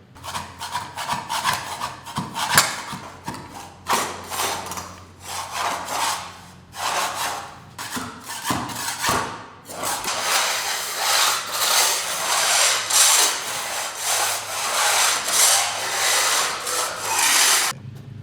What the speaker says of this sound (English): we're gonna scrape up all of these spots that we see, get it as flat as we can before we pressure wash it